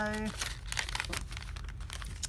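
Origami paper folded into a heart shape gives close, crisp crinkling and rustling through most of the moment, after a short tonal sound at the start.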